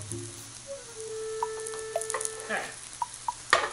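Mashed potato frying in a pan sizzles quietly while being flipped, with scattered pops and a clatter of the utensil near the end; a person speaks briefly over it.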